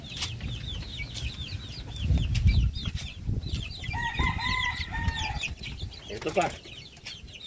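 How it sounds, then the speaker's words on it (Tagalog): Many chicks peeping and fluttering among chickens on a small poultry farm, high chirps repeating throughout with clucks and wing flaps, under someone talking nearby. "dahil napakarami na naming sisiw"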